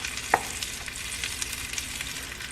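Butter sizzling in a frying pan before Mexican-style crispy fried shrimp with heads go in, a soft steady hiss with a brief clink of a utensil near the start.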